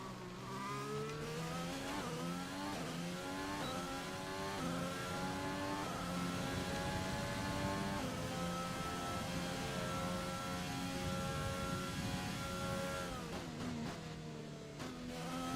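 An F1 race car engine in the game F1 2020 during a race in Canada, a continuous high-pitched revving whine rising and falling through gear changes, loud and alone with no talk.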